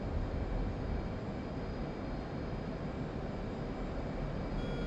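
A jet aircraft takes off in the DCS World flight simulator, its engine a constant low, broad roar that holds steady throughout, fairly quiet, with no talking.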